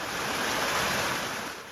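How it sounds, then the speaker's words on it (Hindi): Muddy water gushing steadily out of cracked ground in sinking Joshimath, a broad continuous rushing wash, loud and close, with no voices. "ये जो मटमैला पानी है वो निकलना शुरू हुआ, और तब से पानी का यहाँ से निकलना जारी है।"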